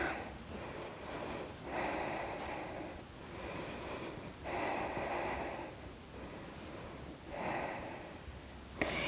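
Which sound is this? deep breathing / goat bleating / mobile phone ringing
deep breathing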